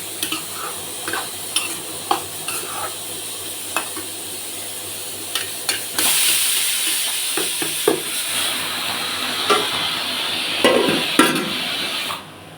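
Broad beans fry in a pan, a steady close sizzle punctuated by scraping stirs, swelling into a louder hiss as water is sprinkled in midway, with no talking.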